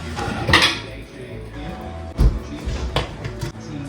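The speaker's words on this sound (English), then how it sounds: "I'm gonna change the lid" A metal lid is changed on a cooking pot, making several clanks and clinks of metal on metal, a loud one in the middle and lighter taps after, close up against faint kitchen noise.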